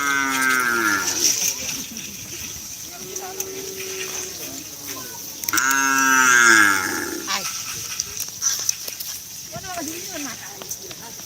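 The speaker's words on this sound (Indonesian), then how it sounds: "Ini guys sapinya guys." Cattle moo loudly and repeatedly at a kerapan sapi bull race, the long harmonic calls rising over crowd noise and people talking nearby.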